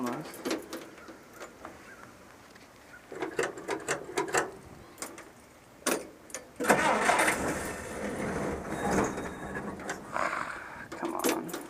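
The engine of a restored 1946 Willys CJ2A Jeep cranks in several bursts, then catches and runs unevenly at close range.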